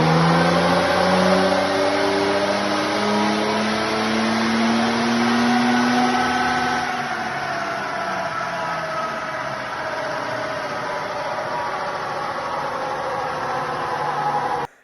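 Land Rover Defender 90 engine revving on a dyno: loud, continuous revving with gear-like pitch rises, settling into a steady high drone before cutting off abruptly at the end.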